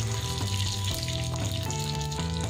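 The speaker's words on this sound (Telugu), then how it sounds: "ఇప్పుడు చివరిగా కరివేపాకు వేసుకోవాలి" Curry leaves fry in hot tempering oil with garlic and dried red chillies for an Andhra drumstick sambar, giving a steady close sizzle with a few faint clinks and no speech.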